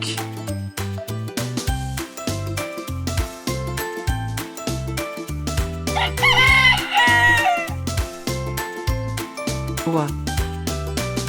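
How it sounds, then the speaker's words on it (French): A rooster's crow rings out once, loud and wavering, partway through a farm-animal sound segment, set against bouncy, prominent children's background music. "Coq."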